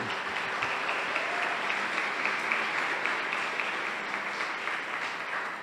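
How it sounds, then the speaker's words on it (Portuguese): Steady applause from a large crowd at a church service, a dense continuous wash of clapping that holds at an even level throughout with no voices on top. "Vamos aplaudi-lo, porque ele está vivo."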